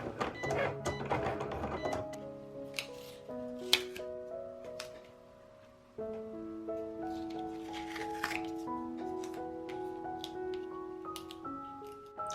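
A Cricut cutting machine slicing through poster board, its motor whirring in steady tones that step up and down in pitch as the blade moves, with light clicks and ticks throughout.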